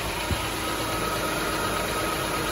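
A 2019 Kia Sedona engine idles while warming up, a steady low even hum without variation, moderately quiet and alone with no talking.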